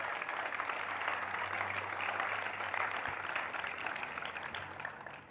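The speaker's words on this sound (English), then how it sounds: "Yeah, you can clap for that." Crowd at a law-enforcement support rally breaks into applause, a broad wash of many hands clapping at moderate distance that stays steady before gradually thinning out near the end.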